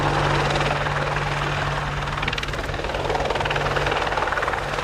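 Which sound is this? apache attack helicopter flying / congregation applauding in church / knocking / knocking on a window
apache attack helicopter flying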